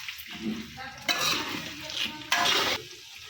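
Small potatoes with ginger and garlic sizzle in a frying pan as a spoon stirs them, with soft scraping against the pan and two louder bursts of frying hiss, close and steady.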